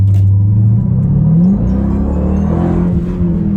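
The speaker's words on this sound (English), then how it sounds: "the engine noise is quite present" A Dodge Durango Hellcat SUV's engine revs as it accelerates, a loud deep rumble rising in pitch and then settling into a steady drone, heard close from inside the cabin.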